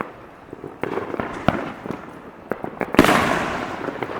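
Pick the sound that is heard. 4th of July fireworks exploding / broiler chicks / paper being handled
4th of July fireworks exploding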